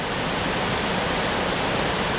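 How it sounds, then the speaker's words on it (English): A waterfall at Savage Gulf State Park, Tennessee, roars as a steady, dense rush of falling water, constant and fairly loud throughout with no voices. "Back right there's another waterfall that's in the sunshine"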